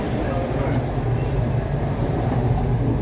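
A WMATA 7000 series metro train rides the Green Line toward L'Enfant Plaza, heard from inside the car as a loud, steady low rumble and rolling wheel roar with no break.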